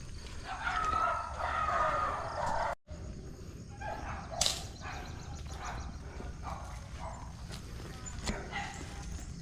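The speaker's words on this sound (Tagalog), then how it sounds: "Susugurin tayo na aso." A dog barks a few times at some distance, outdoors, with people talking nearby.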